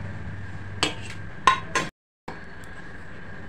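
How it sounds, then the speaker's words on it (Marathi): Peanut laddoos are set down on a plate with a few light clinks and taps close by. There are brief pauses and the surroundings are quiet. "आता मी प्लेटमध्ये ठेवत आहे."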